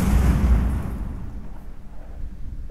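An explosion in the tactical shooter game Rainbow Six Siege: a heavy, close boom with a dense low rumble that quickly fades into a lingering noisy tail, with no voices over it.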